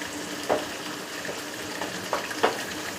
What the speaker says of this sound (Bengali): সবশেষে একটু কসুরি মেথি দিয়ে এটা আবার একটু নাড়াচাড়া করে দেব।